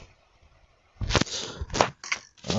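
Several sharp shots from a toy gun firing arrows pop close by after a quiet start, each a snappy burst with a brief rattle, spaced about half a second apart.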